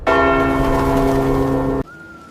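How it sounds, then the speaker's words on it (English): A single deep church bell strike rings out loud and resonant, holding its tone for nearly two seconds before being cut off abruptly. "Church bells never stop ringing."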